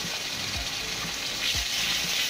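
Garlic, cumin and ginger paste fry in a pan with a steady loud sizzle, broken by a few soft scraping stirs, while Bengali-style fish and gourd curry is being cooked.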